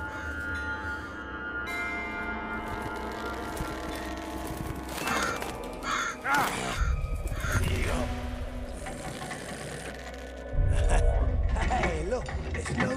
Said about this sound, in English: These birds are feeding plenty well as it is.